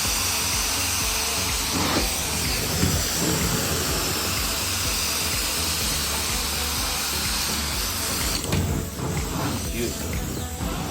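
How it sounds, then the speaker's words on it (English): Hot steam hissing from a carpet cleaning machine during a pet urine stain job, a loud continuous broadband hiss with machine drone, steady and close. "Hot steam, look at that."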